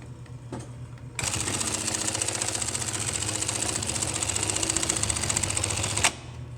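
An industrial Class 68 sewing machine, converted to a regular bobbin, stitches a box-and-cross pattern into thick 5100 lb nylon webbing, starting abruptly with a fast, steady mechanical clatter that runs about five seconds before stopping.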